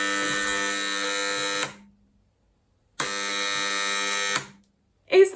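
A tea-making alarm clock's harsh electronic buzzing alarm sounds in two long bursts separated by silence, loud and close, followed by a short clipped noise.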